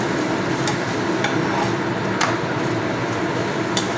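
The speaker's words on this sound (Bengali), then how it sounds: "দুদিকটা ভালো করে আবারও উল্টে পাল্টে ভেজে নিতে হবে" Paratha frying in a small amount of white oil in a pan, a dense continuous sizzle with occasional faint clicks, close and steady.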